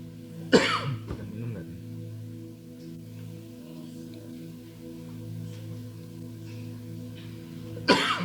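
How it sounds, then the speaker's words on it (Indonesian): Two short, sharp coughs from a preacher during a church service, one near the start and one at the end, separated by a low steady hum with faint background noise. "tiba-tiba batuk."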